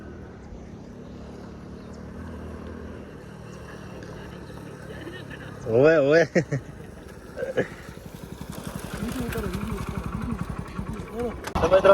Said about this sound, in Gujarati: મારું બાઇક લઈને આવી રહ્યો છે